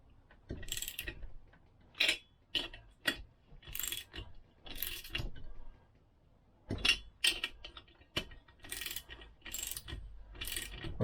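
A wrench ratchets on a Vespa scooter's cylinder head, giving close, clicking bursts of pawl teeth in quick strokes with short pauses between them.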